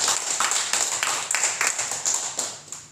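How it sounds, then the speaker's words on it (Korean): Audience clapping in a church, a steady run of hand claps from a gathered congregation, close and moderately loud, with no one speaking over it. "박수 한번 보내주시기 바랍니다."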